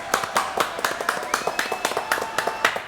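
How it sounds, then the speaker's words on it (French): Audience applause at a French television show, a dense run of rapid, close hand claps with a sharp rhythmic patter that carries on steadily throughout. "Applaudissements s'il vous plaît."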